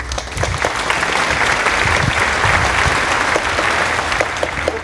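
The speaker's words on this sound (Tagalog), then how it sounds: "bigyan natin ng ating sarili ng maraming palakpak" A classroom group applauds steadily for about five seconds, a dense, even wash of many hands clapping at once, close and fairly loud, with no one speaking over it.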